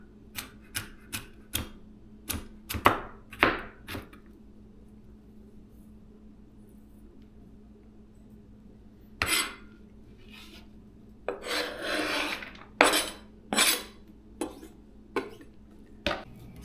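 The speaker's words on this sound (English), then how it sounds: "and then we'll just chop them up. And because these are thicker carrots, I'll probably just do a final chop at the end" Knife chopping thick carrots on a cutting board, a quick run of sharp taps, a pause, then scattered louder chops and a rasping scrape, close by with no talk.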